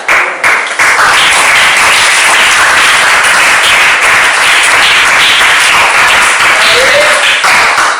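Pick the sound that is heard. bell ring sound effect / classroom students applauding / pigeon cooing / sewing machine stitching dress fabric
classroom students applauding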